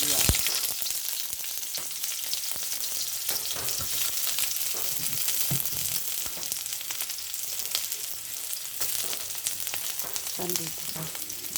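Onions sautéing in a pan for sweet and sour chicken, a continuous bright sizzle with scattered crackles and occasional utensil clinks, close and steady throughout.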